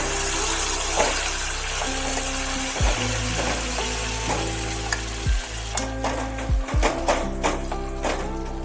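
Chana dal lentil paste poured into hot oil over a low flame, a steady sizzle under deep, repeated thumping knocks and occasional scraping, close and fairly loud.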